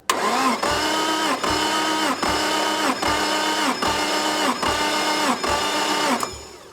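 A car engine cranks on the starter during a cylinder compression test, with a loud, even, rhythmic whirring in about nine regular compression pulses that stop abruptly near the end.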